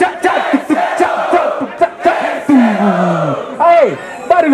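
Audience at a Brazilian street rap battle, Batalha da Leste, cheers, whoops and shouts loudly and continuously, rising in rowdy bursts with voices yelling over one another.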